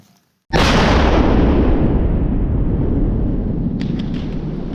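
A police bomb squad's detonation of Russian munitions booms out of near silence, followed by a long rumbling roar that slowly decays, with a few faint clicks near the end.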